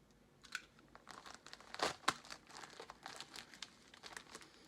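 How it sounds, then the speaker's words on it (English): A box cutter slices open a fragrance package, giving a run of crinkly, crackling packaging noises with a couple of sharper tearing bursts in the middle, close and fairly quiet with no talking. "Alright guys, so I'm opening up the package."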